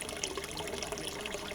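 Water trickles steadily on a creative art farm, a soft, continuous wash of running water heard close and alone, with no voices.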